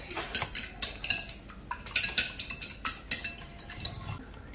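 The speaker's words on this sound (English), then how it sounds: "And this is 2 eggs. And now I'm going to just whisk it." Two eggs are whisked in a bowl, giving a quick run of close, sharp clinks and taps of utensil against the bowl, irregular but steady over a few seconds, with no talk.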